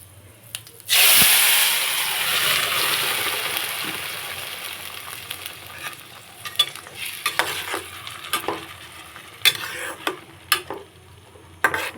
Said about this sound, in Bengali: লাউ পাতাটা এইভাবে নাড়তে নাড়তে পুরো জল শুকিয়ে যাবে, ততক্ষণ নাড়তে থাকবো।